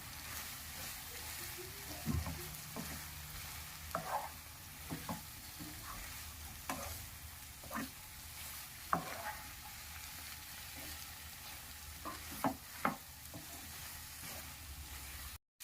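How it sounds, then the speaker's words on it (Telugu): Mushroom pieces scraping and stirring in masala in a hot pan with a low steady sizzle, spatula clinks and scrapes breaking through at irregular intervals. "మష్రూమ్ ముక్కల్ని దీనిలోకి వేసుకోవాలి వేసి బాగా మసాలాలు దీనికి పట్టేలాగా దీన్ని బాగా five to ten minutes cook చేసుకోవాలి"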